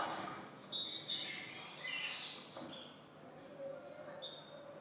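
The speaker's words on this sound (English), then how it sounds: "Some higher pitch, more, I guess, growling kind of bird sounds." A corpus of recorded bird sounds played back, higher-pitched growling calls with chirping and warbling notes, steady and fairly close, then thinning out toward the end.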